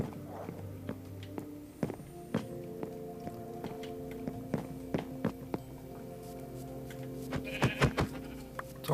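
Sheep bleat in a blocky survival video game, with several short calls scattered over a steady background of game ambience and soft footstep-like clicks, moderately close and without talk.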